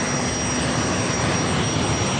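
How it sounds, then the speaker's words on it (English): An airliner departs from Los Angeles LAX airport, its jet engines a loud, steady, broadband roar that holds without a break, near and continuous with no voices. "We actually have a departure."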